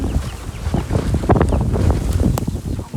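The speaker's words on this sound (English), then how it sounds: "Half the compost pile just blew across the yard." Strong wind gusts across an outdoor yard with chickens and a compost pile, loud buffeting roar battering the microphone continuously with rumbling low gusts and no speech.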